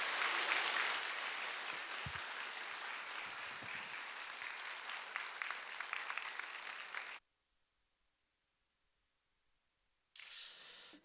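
A church congregation bursts into broad, sustained applause that holds for about seven seconds, cuts to silence, then resumes briefly near the end.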